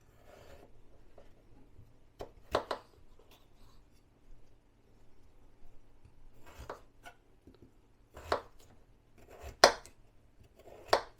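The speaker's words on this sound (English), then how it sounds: "so that's all of the potato chopped up" A knife chops potatoes on a chopping board in a home kitchen: sparse, quiet, sharp knocks, single and in quick pairs, separated by long near-silent gaps.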